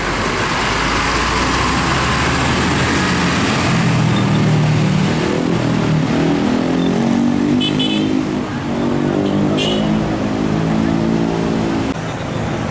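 A Rosalia Indah bus pulls away from the terminal, a loud low engine rumble rising as it accelerates amid surrounding traffic noise, with brief horn toots near the end.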